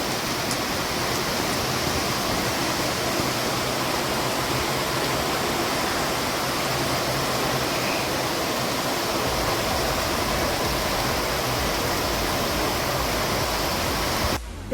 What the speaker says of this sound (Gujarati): આ અમારા શેરીમાં જ પાણી ભરાણું છે એટલું જોઈ લો